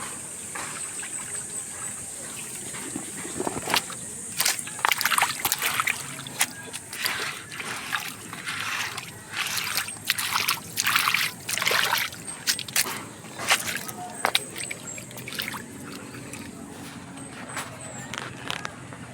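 Rainwater being scooped and poured out of a lettuce grow container after a typhoon, heard as repeated irregular splashes and trickles close by, with some faint background noise between pours.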